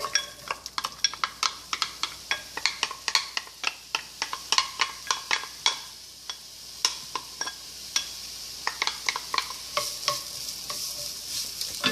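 Onion frying in hot oil with seeds over medium-high heat for chana masala, giving a continuous sizzle broken by many sharp, rapid crackles and pops, close and fairly loud throughout.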